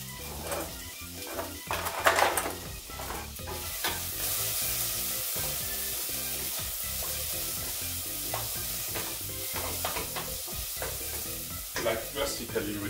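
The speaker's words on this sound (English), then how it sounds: "The onions, as you probably know by now are getting heat up in the olive oil." Onions sizzle in hot olive oil in a pan, with steady frying hiss, intermittent stirring scrapes and utensil clinks against the pan; close and continuous, no speech.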